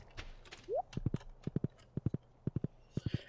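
A horse trotting in the farming game Stardew Valley, with crisp clip-clop hoofbeats in short triplet groups at a steady pace. A brief whinny-like sweep comes just before them over a faint hum.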